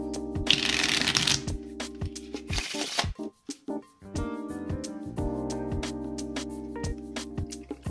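Rapid riffling of playing cards being shuffled, a dense crisp flutter in two bursts, followed by sharp card snaps and taps over steady background music.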